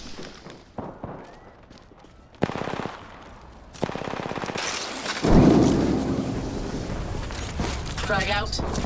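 Rapid bursts of automatic gunfire in the battle royale shooter Apex Legends, a short volley, then a longer sustained stream of shots ending in a loud blast and rumble, with game sounds throughout and a voice speaking.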